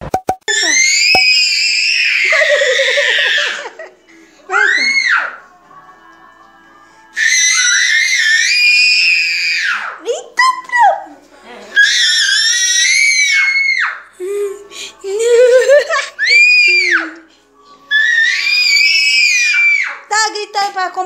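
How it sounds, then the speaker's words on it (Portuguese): Several young girls shriek in turn in a contest to see who can scream loudest at a family birthday barbecue, with long high-pitched bursts separated by brief pauses and short gaps, loud and close. "Competir quem grita mais?"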